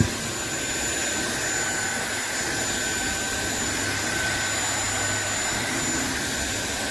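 A SunSare 600W cordless stick vacuum cleaner runs continuously with a steady, loud high-pitched motor whine and airy suction rush, unchanging from start to end.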